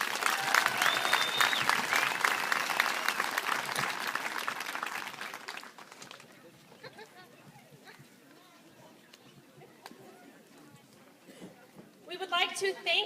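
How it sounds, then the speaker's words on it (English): Applause for an event committee at a Relay For Life gathering in Lake County, a steady wash of clapping that fades out after several seconds, leaving quiet room tone before a voice speaks. "one more round of applause for my amazing committee"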